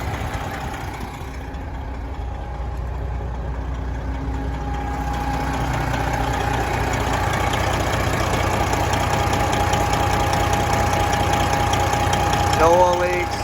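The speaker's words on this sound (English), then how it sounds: "Just normal, moderate blow-by from a Detroit." A Detroit diesel engine idles in a 2017 Peterbilt 389 glider day cab, a steady low rumbling drone close by with a faint whine, running alone without talk.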